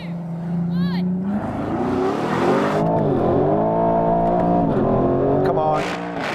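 Aston Martin cars accelerating hard in a rolling drag race, loud engines rising and sweeping in pitch through gear changes, with voices talking over the roar.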